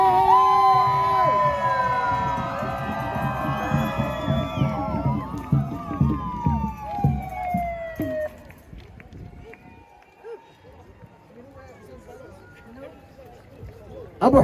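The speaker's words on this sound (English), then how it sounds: "Cardiff, make some noise!" A crowd at a march for Palestine in Cardiff shouts and cheers loudly, with raised voices and whistling, then thins to scattered, quieter crowd noise, with a voice over the top.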